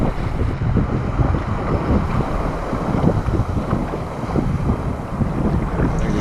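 Ocean surf rolling continuously around a kayak riding a wave back to shore, a steady rushing wash heavy with wind buffeting the microphone, close and loud with no talking.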